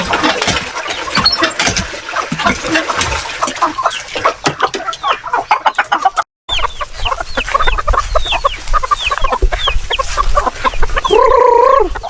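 Free-ranging heritage chickens cluck busily and loudly at close range, with scattered squawks and a distant crow, while an engine rumbles in the background.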